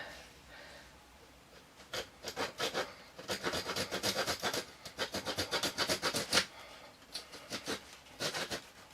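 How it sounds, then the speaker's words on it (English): Hand saw cutting off wood from a Bhutanese-style bow, a close series of rhythmic rasping strokes in quick back-and-forth bursts with brief pauses between, with no talking. "I'm going to saw them off and then we'll work it out after that."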